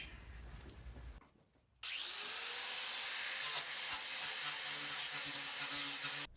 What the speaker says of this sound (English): Guess we'll tackle this first with the wire brush.